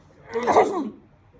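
A single close sneeze, a short sharp burst of breathy noise lasting under a second, with quiet around it.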